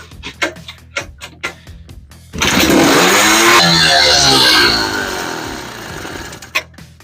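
A 1979 Honda Odyssey FL250 go-kart that sat for years, with a suspected vacuum leak, sputters through a few uneven pops, then catches and revs hard and loud up close for about two seconds before easing down, with a final pop.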